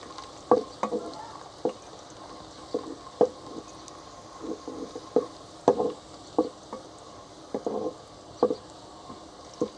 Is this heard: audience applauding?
no